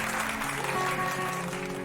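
Audience clapping at a live ghazal concert, a steady wash of applause throughout the short stretch, with faint lingering instrument tones beneath.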